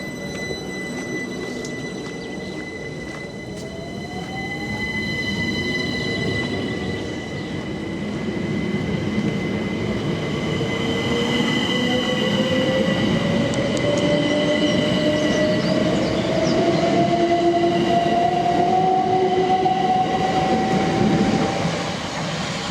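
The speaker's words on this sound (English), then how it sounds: "The train now continues on to Horsham." A passenger train heading on toward Horsham moves off from a small rural station; a steady rolling rumble builds and holds, with rising whining tones from the motors and wheels as it gathers speed, with no voices.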